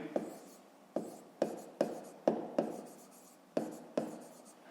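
A pen writes on paper during a fifth-grade maths exercise, a series of about nine short scratchy strokes at an irregular, steady pace, close and fairly quiet.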